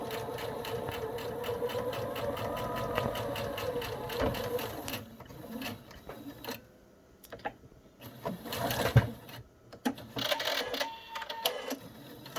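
A sewing machine stitches down the elastic ends of a hospital face mask, its steady mechanical whirr running in bursts with brief stops and restarts, heard close up.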